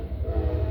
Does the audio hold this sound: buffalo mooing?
no